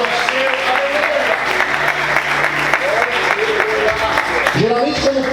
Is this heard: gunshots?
no